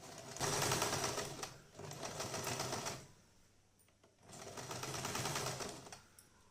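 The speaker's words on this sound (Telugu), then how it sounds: "దీని మీద ఒక కుట్టు వేసుకోవాలన్నమాట" A sewing machine stitches blouse fabric in two loud, steady bursts of rapid mechanical whirring and needle chatter, separated by a short quiet pause, close up with no talking.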